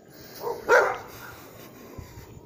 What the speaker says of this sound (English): Friggin' dogs.